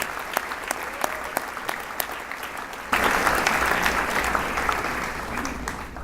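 Audience at a high school commencement ceremony giving a round of applause for graduates' families: steady, moderately distant clapping that swells noticeably louder halfway through and keeps going to the end.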